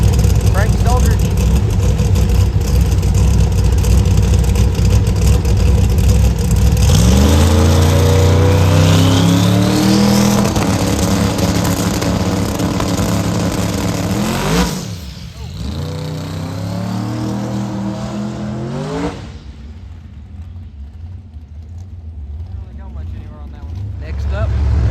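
An Outlaw Promod drag car at London Dragway roars off the line with a loud, rising engine howl that climbs through gear changes, then drops away into the distance as a voice talks over it.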